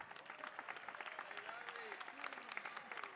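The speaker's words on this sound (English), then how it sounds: "she deserves some applause" Applause and cheering from a commencement crowd at Cal Poly greeting the student body president, with dense clapping and some voices calling out over it.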